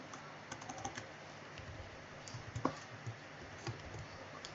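Typing on a computer keyboard while writing Laravel 8 code: irregular, quiet key clicks in short bursts, close up and alone.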